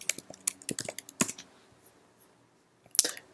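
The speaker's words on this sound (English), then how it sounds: "we're going to type in switch here" Typing on a computer keyboard comes through as a close run of crisp, uneven keystrokes, then a pause and a final burst of clicks, with no voices.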